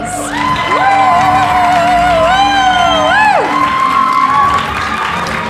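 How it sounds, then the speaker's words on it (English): Cheering crowd with whoops, shouts and applause for climbers at a bouldering finals event, loud and sustained throughout, with a rising and falling whistled whoop standing out above the roar. "Can we please get a huge round of applause for these incredible climbing queens?"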